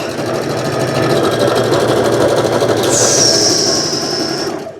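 A sewing machine runs a stretch stitch on fabric, a loud close continuous whirring hum with a rapid mechanical pulse and a high whine rising partway through.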